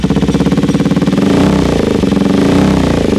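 A KTM Duke 390 third-generation motorcycle fitted with an SC Project aftermarket exhaust idles loudly and close with a rapid, throbbing pulse, then revs up and settles, with no talking.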